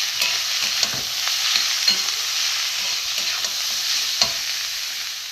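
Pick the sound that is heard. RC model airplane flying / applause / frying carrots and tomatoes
frying carrots and tomatoes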